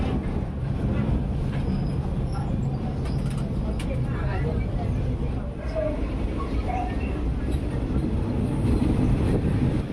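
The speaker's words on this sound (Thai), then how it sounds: "ประมาณ 7 นาทีถัดมารถไฟก็วิ่งมาถึงสถานีกาญจนบุรีครับผม" A passenger train rumbles along toward Kanchanaburi station in Thailand, a steady heavy low roar with clattering wheels heard from inside, a voice talking over it.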